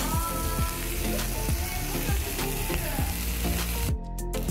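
Shredded cabbage for okonomiyaki sizzles loudly in a hot pan, a steady dense crackle with regular scraping strokes of stirring, briefly dipping near the end.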